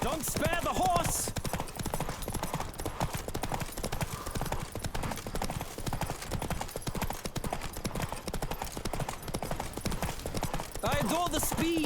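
Horse hooves pound at a steady gallop in The Witcher 3, a continuous rapid clip-clop running loud and close throughout, with a brief whinny near the start and a voice talking over parts of it.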